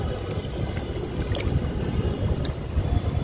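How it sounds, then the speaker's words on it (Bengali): Rainwater rushes across a flat rooftop after a sudden morning shower. It makes a steady, loud, low-pitched wash and rumble close to the microphone, with some wind noise. "দেখি কি পরিমাণ পানির স্রোত যাচ্ছে।"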